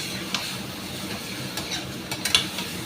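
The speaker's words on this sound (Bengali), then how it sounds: "খুব ভালো করে নাড়বো।" Chicken being stirred in a pan of hot oil for a chicken roast, with soft scraping strokes over a steady low sizzle and a few sharper scrapes near the end.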